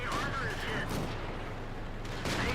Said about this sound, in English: there is something shooting me in the back